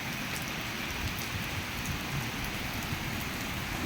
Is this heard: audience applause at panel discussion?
no